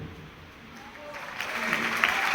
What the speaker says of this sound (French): Ça s'applaudit, ça s'applaudit.